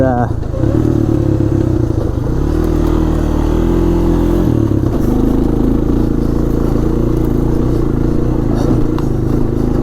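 A Honda Foreman 400 ATV accelerates off road, pulling through its gears: a close, loud engine drone that climbs, dips at each shift and climbs again.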